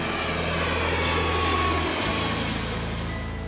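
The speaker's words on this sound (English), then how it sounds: "an airplane is very loud and has a high frequency" An airplane roars steadily overhead, a loud continuous broadband engine rush with a faint low hum that cuts out midway.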